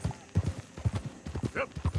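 Horse hooves clip-clop at a steady gait in Red Dead Redemption 2, close and rhythmic, with someone talking over them.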